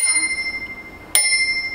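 A single bright ring from the bell on a baby tricycle being assembled at home, sharp and close, with a lingering metallic tone after a quiet stretch.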